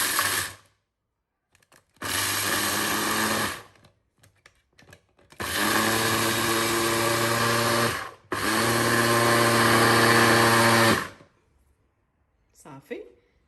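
A Moroccan kitchen grinder runs in three loud, steady whirring bursts as it grinds almonds for briouats, with short quiet gaps between the runs and a few faint clicks and knocks around them.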